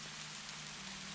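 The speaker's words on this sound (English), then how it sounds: "I think the rain's starting to slack off" Steady rain falls throughout, a soft continuous hiss without breaks, fairly quiet and evenly spread, with no voices over it.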